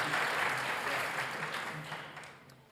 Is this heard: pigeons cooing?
no